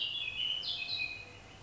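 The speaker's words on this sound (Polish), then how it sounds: "Mam nadzieję, że słyszycie ptaki." Birds singing outside, a few high clear chirps and a short trill, faint and distant over a quiet background hum, no talking.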